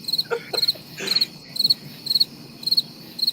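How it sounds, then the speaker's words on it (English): Cricket chirping sound effect played back, steady repeated bursts of high trilling chirps in a regular rhythm, loud and close with a brief rustle partway through. "Now you can play the crickets."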